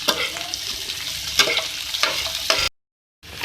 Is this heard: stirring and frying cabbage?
yes